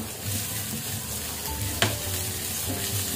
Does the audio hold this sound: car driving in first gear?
no